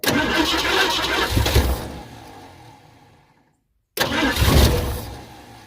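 An abandoned Eleanor-style Ford Mustang, left sitting for over a decade, cranks and fires loudly up close, then fades out and dies into silence before catching again for a short burst of running.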